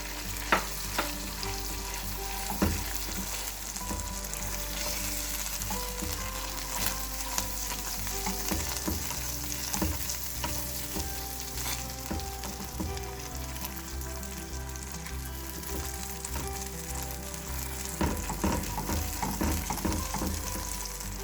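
Red chillies and tomato paste frying in melted butter for a Turkish red lentil soup, a steady loud sizzle with occasional stirring clinks throughout, no voices.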